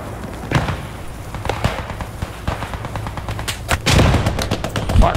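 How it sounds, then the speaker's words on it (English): Sustained machine gun fire in the World War II shooter Squad 44, with dense overlapping bursts and heavy battle noise that grows louder near the end. "Help, the machine gun."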